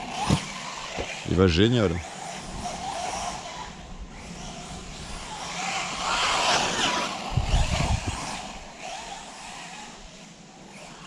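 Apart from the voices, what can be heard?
Arrma Senton radio-controlled monster truck driving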